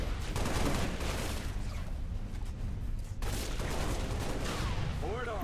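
Sustained gunfire in Halo Reach, with dense, rapid bursts and booming shots running throughout under a busy game soundscape, with a brief lull midway before firing resumes.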